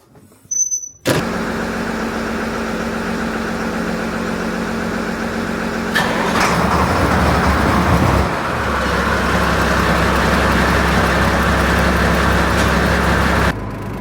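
A farm loader's engine fires up on a cold day after a brief cranking burst, then settles into a loud, steady diesel idle that steps up in intensity partway through before easing back near the end.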